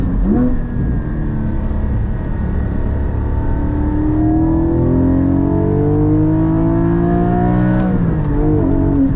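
Manual Porsche GT4 with a Fabspeed over-axle exhaust pipe, heard from inside while driving as the engine revs up through the gears, a loud, rising mechanical howl that climbs and drops with each shift, steady and close.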